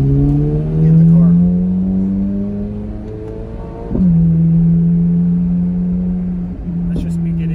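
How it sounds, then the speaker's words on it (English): A 2023 Chevrolet Corvette C8 Z06 cruises in track mode at low revs, its deep, steady engine note rising smoothly, dropping sharply on a shift, then settling into a loud, close drone. "I'll drive you back down the road here with the car in track mode, again, just at low RPMs, and you can really hear the difference in the car"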